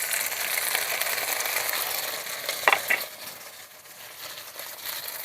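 Shrimp added to a pan of fried onions, giving a steady close sizzle of frying with a brief clatter of stirring midway, no talk.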